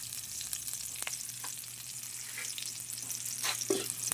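Fern and sardines browning in a pan at an outdoor dirty kitchen, a steady soft sizzle with a few scrapes and stirring clinks, close and moderately quiet, no voices.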